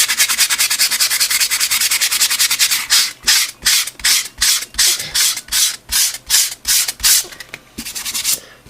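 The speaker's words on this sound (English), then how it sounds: "taking the sandpaper" Sandpaper rubbing over a gesso-coated newspaper background, first a continuous scrubbing, then a series of distinct rhythmic back-and-forth strokes, close and clear with no talk.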